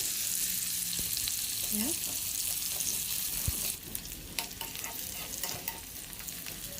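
Potato pieces and onions fry together in a pan, a steady, loud sizzle that drops slightly partway through as crackling and stirring scrapes take over, with no talking.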